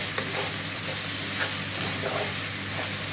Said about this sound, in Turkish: Tereyağını koydum. 5-10 dakika güzelce kavuruyorum.